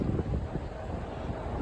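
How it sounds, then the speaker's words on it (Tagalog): Cold wind blowing outdoors along a clean street in Australia, a steady low buffeting rumble against the microphone with no talking. "Mahangin pa."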